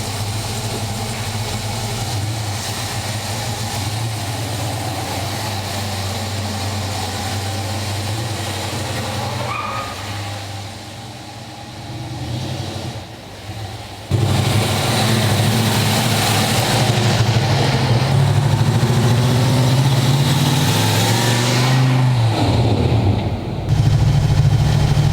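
Car engine idling steadily just after carburetor tuning, a continuous close rumble that dips briefly and then comes back louder and slightly rougher, with no talking over it.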